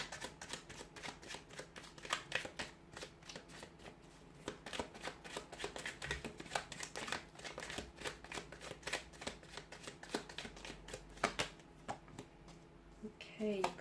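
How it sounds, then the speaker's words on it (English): Tarot and oracle cards being shuffled by hand, a close, busy run of papery riffles and flicks that continues with brief pauses, quiet overall. "so we'll give the card a shuffle"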